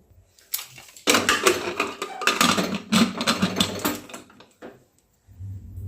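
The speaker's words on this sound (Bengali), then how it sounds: "এবার আমি প্রেসারটাকে লাগিয়ে সিটি বসিয়ে দেবো।" Pressure cooker lid clanking and scraping shut as its metal whistle is fitted, a series of close, loud rattling metal clatters and knocks over about three seconds, with brief quiet on either side.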